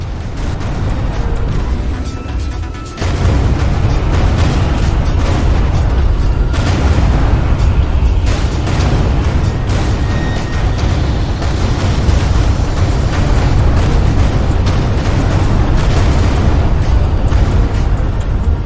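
An explosion in an action video game: a sustained, loud roaring rumble that kicks in abruptly after a few seconds of lighter noise and keeps booming steadily to the end.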